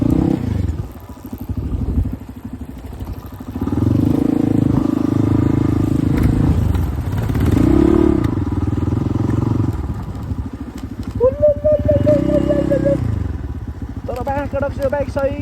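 A motorcycle rides a mountain road near Manang, its engine droning close and loud, rising and falling with throttle changes.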